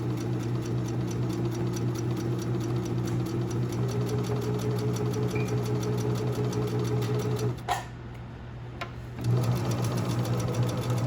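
A sewing machine runs steadily stitching the inseam of an 18-inch doll's leg, a close, even mechanical whir that pauses briefly near the end before resuming.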